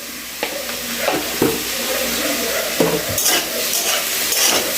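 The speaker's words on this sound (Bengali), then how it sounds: "সবজিটাকে ভালোভাবে ভেজে নিতে হবে।" Vegetables fry with turmeric in a pan for a flattened-rice pulao. A loud, steady sizzle continues throughout, broken by several scraping stirs and clinks of a spoon against the pan.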